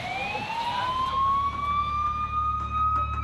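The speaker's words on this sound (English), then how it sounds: "The ambulance is coming" Ambulance siren wailing as it approaches on a rescue call, a clear rising tone sweeping upward and holding, moderately distant over low engine rumble.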